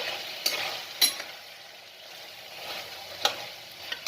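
Chicken being stirred in a cooking pan, a quiet soft sizzle broken by a few sharp clinks of the spatula against the metal.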